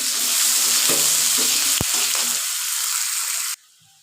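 Onion and potatoes fry together in a pan with fresh green chillies, a steady loud sizzle with a few stirring scrapes and one sharp clink, then it cuts off abruptly near the end.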